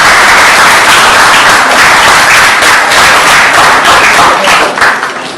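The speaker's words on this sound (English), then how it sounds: "We should give them a round of applause for that." A large school audience applauds steadily at a speech event, dense continuous clapping filling the whole stretch and tapering slightly at the end.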